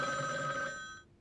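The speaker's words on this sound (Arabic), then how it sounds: "معلش يرد على التليفون، ضاقت خلاقي من التليفونات" An old-style telephone bell rings in one sustained, bright burst that fades out, with no voices over it.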